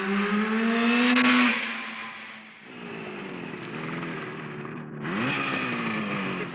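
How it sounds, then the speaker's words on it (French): A vehicle engine revs at a roadside noise check, loud and close, with pitch climbing and falling through three rev surges and a brief dip between them. "le bruit de votre véhicule"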